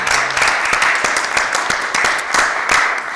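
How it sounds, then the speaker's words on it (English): Applause from city council meeting attendees, a dense burst of many hands clapping close and loud, steady throughout with no talking. "Give yourself a round of applause."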